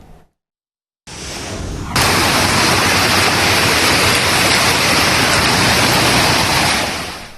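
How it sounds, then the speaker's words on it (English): Swift floodwater in Burke County, North Carolina, nearly washing out a road after a damaging storm: a loud, steady, broadband roar of rushing water that surges in after a brief silence and holds without voices. "You can hear just how strong the swift water is here, nearly washing out a road in North Carolina."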